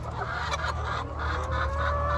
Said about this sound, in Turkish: Güzel tavuklar ama.